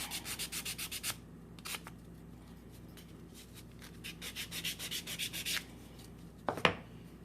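Sandpaper rubbing along the edge of a small wooden dollhouse night stand, a quick series of rhythmic scraping strokes, close and fairly quiet, with short pauses between bursts.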